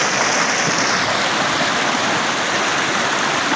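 Steady, loud rushing of a stream flowing around and past a person standing in the middle of the creek, a continuous broadband wash with no speech over it.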